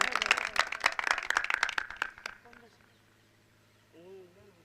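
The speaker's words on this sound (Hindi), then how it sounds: "सब लोगों से मैं गुजारिश करता हूं कि तालियों से" An audience claps to welcome the director at a devotional song gathering and closing address, a brisk close round that stops after about two seconds, followed by quiet speech.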